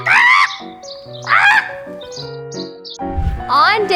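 Cartoon bird chirps and warbling calls from the video game Lifecraft ring out in bright, repeated bursts over a sustained musical backing, with a low thump near the end.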